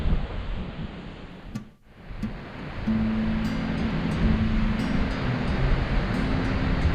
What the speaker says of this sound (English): It was just the waves.